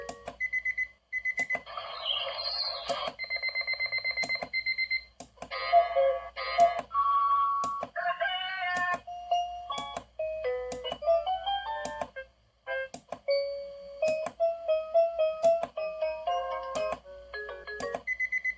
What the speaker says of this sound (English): To select your preferred ringtone, we just hit the ringtone button.